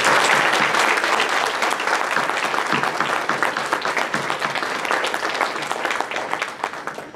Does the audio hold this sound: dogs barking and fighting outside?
no